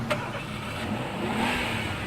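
A car travels along a highway, a steady mid-pitched engine hum with a slight rise as it accelerates, close and continuous, with no voices.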